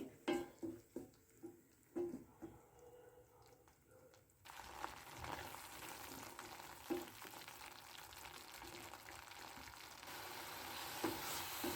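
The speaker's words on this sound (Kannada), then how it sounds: "ಒಮ್ಮೆ ಈ ಮಸಾಲವನ್ನು ಚೆನ್ನಾಗಿ ಬಾಡಿಸ್ಕೋಬೇಕು ಎಣ್ಣೆಯಲ್ಲೇ" Masala with raw grated coconut frying in oil for a traditional no-onion, no-garlic rice dish: a few soft stirring knocks, then a steady, fairly quiet sizzle that fills the rest of the clip with no talking.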